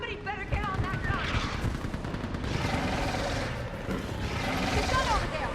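Mounted turret gun in Mass Effect Legendary Edition firing sustained, rapid bursts of automatic fire, loud and continuous across the whole stretch, with shouted voices and battle chatter mixed beneath it.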